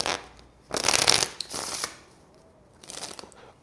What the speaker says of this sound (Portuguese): ela pode embaralhar